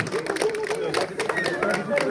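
Audience clapping at a teachers' conclave award ceremony, a steady scatter of hand claps running beneath a speaking voice over the hall's sound system.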